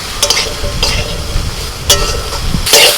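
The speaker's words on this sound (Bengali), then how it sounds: "এবার আমি সবজিগুলো ভাজতে দিয়ে দিয়েছি কুমড়ো শাকের ডাঁটাগুলো আছে ঝিঙে বেগুন আর আলু আছে" Pumpkin-green stalks, ridge gourd, eggplant and potato fry in a pan, a steady sizzle broken by several louder scraping stirs at intervals, close and clear with no talk.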